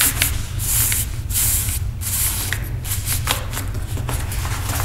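A deck of cards being shuffled and riffled by hand, repeated crisp flurries of flicking card edges close up, with a low steady hum underneath and no talking.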